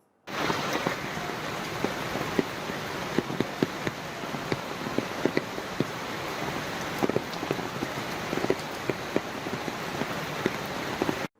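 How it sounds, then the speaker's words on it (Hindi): Heavy rain pours steadily in Mumbai, a dense continuous hiss with scattered sharper drops and splashes on surfaces, loud and close throughout with no voices. "मुंबई में हो रही है बहुत तेज़ बारिश"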